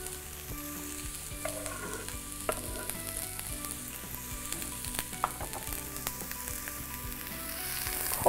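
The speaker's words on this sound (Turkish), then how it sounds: "Soğanlarımı tavaya atıyorum." Onions hit a preheated pan and sizzle loudly and continuously, with light stirring scrapes and small crackles through the frying hiss, no voices over it.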